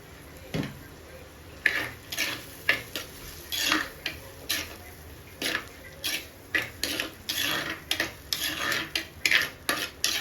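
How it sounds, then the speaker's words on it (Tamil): Onions sauté in a pan for mutton chukka while a metal spoon stirs them, producing repeated close scraping and clinking strokes in an irregular rhythm over a faint sizzle. "மட்டன் சுக்காவுக்கு வெங்காயம் நல்லா வதங்கிடுது"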